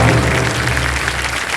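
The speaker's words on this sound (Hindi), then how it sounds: "जोरदार तालियां बज जाए इनके लिए" Studio audience applauding on a Hindi-language TV quiz game show, a short, loud burst of steady, dense clapping with musical tones underneath and no talk.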